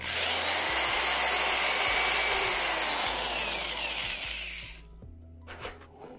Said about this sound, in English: I got these holes I'm going to pre-drill